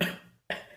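A person with a sore throat gives two sharp coughs close up, separated by a brief silent gap.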